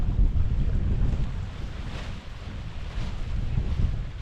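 Strong outdoor wind buffets the microphone in heavy low rumbling gusts while a Lanshan 2 tent is pitched, steady throughout with brief lulls.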